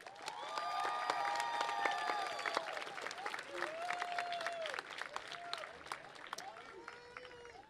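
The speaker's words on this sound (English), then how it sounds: "Please join me in applauding our faculty." A commencement audience at MiraCosta College applauds the faculty with sustained clapping that carries on over a speaker's voice, which rises and falls across the whole stretch and is heard fairly close.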